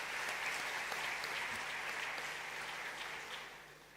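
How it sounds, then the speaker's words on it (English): An audience at an Africa climate summit applauds for several seconds, a dense sustained wash of clapping in a large hall that thins out slightly at the end. "Let us give them a round of applause,"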